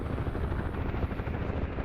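A UH-1H Huey helicopter in the flight game DCS World thuds with steady rotor beats and engine rumble, loud and continuous throughout, with no speech.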